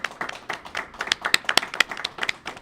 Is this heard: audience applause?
yes